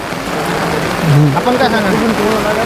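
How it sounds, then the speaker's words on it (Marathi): A heavy monsoon downpour falls over farmland in a constant wash of rain, while someone talks loudly over it close by. "पाणी दमदार हा दमदार पाऊस चालू आहे इथं हा मुसळधार"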